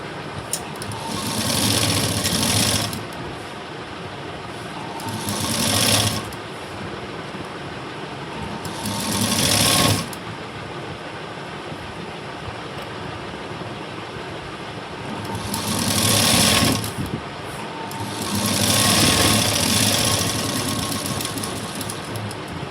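A sewing machine stitches a cross strip to the main fabric of a blouse in loud, steady runs, with several short bursts of faster stitching breaking through a continuous mechanical hum.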